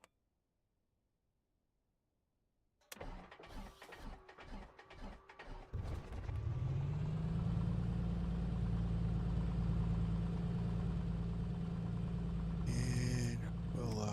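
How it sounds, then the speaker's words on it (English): A Piper PA-24 Comanche aircraft engine starting after a quiet pause. The starter whirs and clatters for a few seconds, then the engine catches into a loud, steady, close idle rumble that holds to the end. "Fire up the engine."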